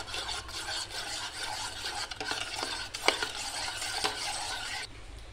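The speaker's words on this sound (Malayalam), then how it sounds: "ഞാനിപ്പോൾ സ്പൂൺ കൊണ്ട് ഇളക്കുന്നതേ ഉള്ളൂ" A spoon stirs Dora cake batter in a bowl, a steady scraping and swishing with soft clinks against the sides, close and continuous with no talk.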